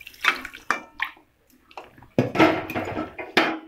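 A lid set on a pot of ghugni after water is added, giving a few sharp metallic clanks and scrapes with water sounds, close and fairly loud, with a brief pause midway.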